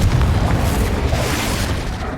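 A Confringo blasting spell explodes in Hogwarts Legacy, with a loud, sustained low boom and rumble that fills the whole clip without any voices.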